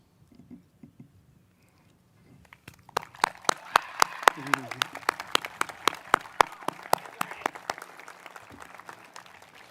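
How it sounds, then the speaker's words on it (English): Graduates at a high school graduation ceremony break into a round of applause that starts after a quiet pause, with sharp individual claps building into steady clapping and a voice briefly heard over it. "give a well-deserved round of applause to thank your family, your loved ones, teachers, staff, and supporters"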